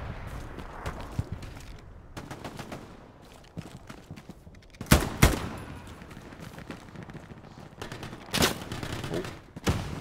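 Gunfire in the World War II shooter game Hell Let Loose, with scattered shots and short rattling bursts, a few sharp loud cracks standing out near the middle and end, mixed with distant battle clutter.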